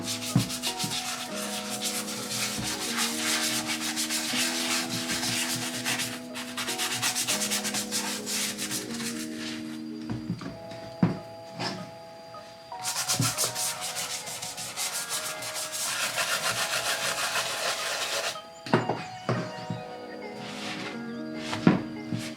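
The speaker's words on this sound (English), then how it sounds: "I'm just gonna start by scrubbing these" A brush scrubs Nike Hyperdunk sneakers with detergent in rapid, rasping back-and-forth strokes, close and steady, broken by a few short pauses and light knocks.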